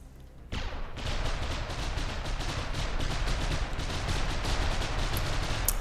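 Rapid burst-fed weapon fire in a video game, a dense, loud, continuous stream of gunshots that starts abruptly after a short quiet moment and keeps a fast, even rhythm throughout, with no voices.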